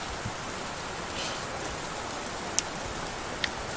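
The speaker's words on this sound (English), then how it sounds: "Oh, I guess I can turn off the rain now." Steady hissing rain from the Roblox game Lumber Tycoon 2 fills the clip evenly, with a couple of faint drop ticks and no talk.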